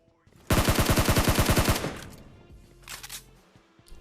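A rapid automatic burst of about a dozen evenly spaced gunshots from an AKM-style rifle in a shooting video game, loud and close, then fading into softer game sounds and a few faint later shots.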